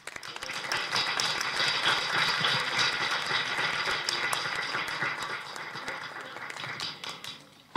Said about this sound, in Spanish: Brindamos otro cariñoso aplauso